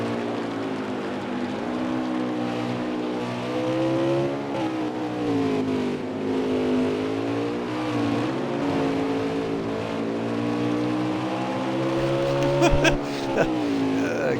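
A race car engine at a Winston Cup race, the 34 car, droning and slightly uneven with a wavering pitch, loud and continuous with a few sharp clicks near the end.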